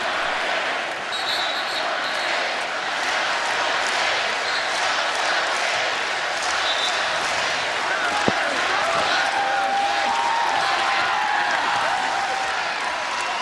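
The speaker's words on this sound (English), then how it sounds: "listen to this crowd" Loud, sustained roar of a college basketball arena crowd at a Creighton home game against Xavier in the tense final seconds, a continuous swell of cheering and noise with a sharp knock or whistle partway through.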